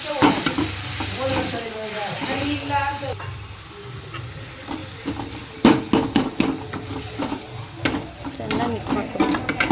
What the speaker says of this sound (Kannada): ಅದಕ್ಕೆ 4 ಟೊಮೆಟೊ ಹಚ್ಚಿಕೊಂಡಿರೋದು ಚಿಕ್ಕದಾಗೆ ಚೆನ್ನಾಗಿ ಮಿಕ್ಸ್ ಮಾಡಬೇಕು.